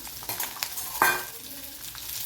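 Small onions, about 200 grams, dropped into hot oil and stirred, crackling and sizzling with scattered spatula scrapes and one sharper burst of sizzle midway, without talk.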